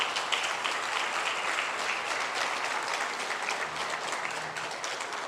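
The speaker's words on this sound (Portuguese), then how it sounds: "Você pode aplaudir o nome de Jesus?" Sustained applause from a large church congregation, steady and dense throughout, with a faint low tone underneath.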